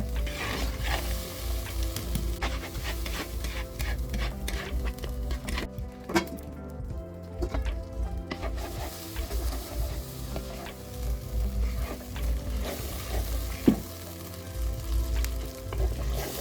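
Tomatoes sizzle and fry in a pan for mutton chusta while a spoon stirs and scrapes through them, a steady close crackle with repeated clinks and scraping strokes throughout.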